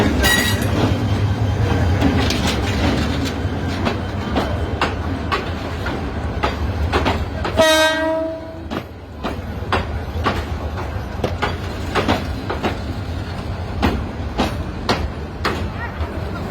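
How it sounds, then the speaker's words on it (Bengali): A train rolls past behind a jhalmuri stall at a railway station, a loud steady rumble with rhythmic wheel clicks, a brief shrill squeal and metallic ring partway through, then continuing clatter. "আজকে পিছনে ট্রেন যাচ্ছে"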